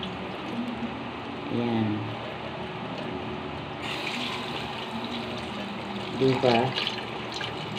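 Tap water running steadily while something is being washed, a continuous rushing splash nearby, with a few short spoken words and a brief louder gush partway through.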